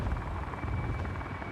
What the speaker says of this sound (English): I heard the helicopter, I'm like, wait a minute.